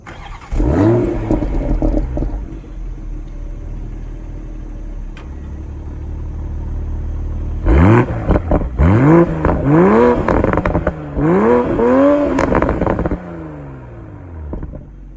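A 2020 Toyota Supra driving, its engine revving up through repeated rising sweeps with gear changes, a steadier cruising hum between bursts of acceleration.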